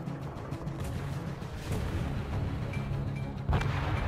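Warship cannon fire from a destroyer in World of Warships, a low rumbling boom over a steady background of sea and engine noise, with a sharper report toward the end.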